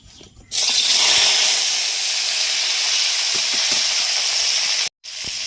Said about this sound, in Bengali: আমি কপিগুলো তেলে দিয়ে দিচ্ছি।